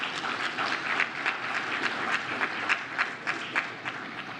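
Audience applause at a regional symposium on violence and crime, a steady wash of many hands clapping with a dense crackling texture from start to finish, no voices over it.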